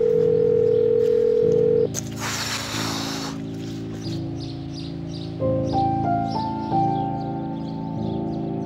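A phone rings repeatedly with a steady electronic tone and is never answered, set in a Turkish TV drama scene, with background ambience and a brief noise burst partway through.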